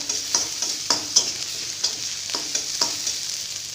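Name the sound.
onions sautéing in a pan for dhal fry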